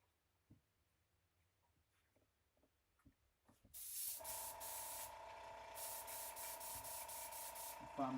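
Airbrush spraying a mid coat of paint onto a fishing lure: after a few quiet seconds of small handling noises, a steady close hiss starts and runs continuously to the end, with a faint tonal whine under it.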